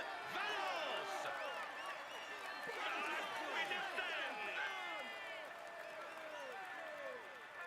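Crowd applause and cheering greet the stage winner climbing the podium in a cycling video game of La Vuelta 2025, with steady clapping and whistle-like chirps throughout, sustained and fairly even over a commentator's talk.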